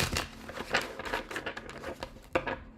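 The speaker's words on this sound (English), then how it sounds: "Two more shuffles." A deck of tarot cards is shuffled by hand in a string of quick papery riffles and rustles, fairly close and steady, with a sharper flurry near the end and no talking.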